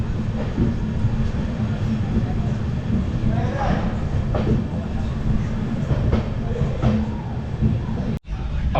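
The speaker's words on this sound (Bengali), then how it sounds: "এই হচ্ছে ট্রেন আমাদের এখন আন্দুল থেকে ছেড়ে দিল" An Amrit Bharat Express train out of Andul, bound from Howrah to New Jalpaiguri, runs with a steady loud rumble and rhythmic wheel clatter throughout, heard from inside a coach. A short dropout comes near the end.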